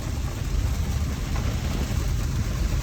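Steady heavy rain drums on a car roof, a constant dense patter with a low rumble underneath and no voices.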